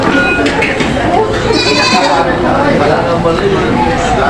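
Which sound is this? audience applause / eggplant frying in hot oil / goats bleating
goats bleating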